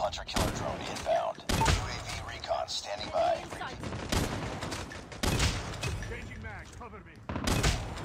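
Gunfire in the Call of Duty Mobile battle royale mode: repeated loud bursts of automatic shots in separate volleys, close up, with someone talking between and over them.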